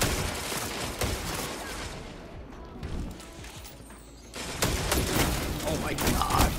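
Rifle fire in a shooter video game, a fast irregular volley of sharp cracks that thins out briefly, then resumes dense and loud toward the end.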